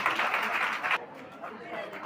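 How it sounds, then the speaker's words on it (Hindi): Audience applause in a hall at a youth prize-giving ceremony, a dense burst of clapping that cuts off abruptly after about a second, followed by quieter room noise and scattered claps. "तालियां बजा देना"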